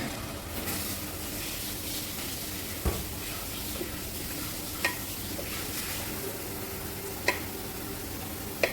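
Masala sizzling in a pan after ground tomato is added for a drumstick and tomato curry, a steady low frying hiss with occasional stirring knocks and taps against the pan, close and quiet with no talking.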